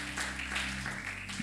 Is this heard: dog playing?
no